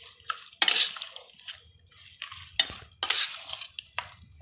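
Pork and onion are stirred in a pan with a spoon, making intermittent scraping, clattering strokes over a faint simmering sizzle, fairly close and alone with no voices.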